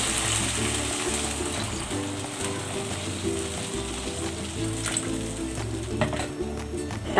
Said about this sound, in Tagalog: Maglalagay ako ng tubig.